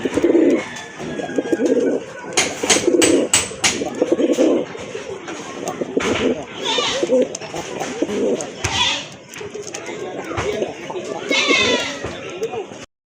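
Male pigeons at a bird sale cooing and fluttering in a busy enclosure, steady murmuring coos throughout with occasional wing rustles and bursts, mixed with people talking nearby.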